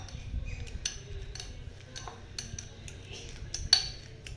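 A fork mashes a banana in a bowl, giving repeated close clinks and scrapes of metal on the dish at an irregular rhythm, with one sharper clink near the end.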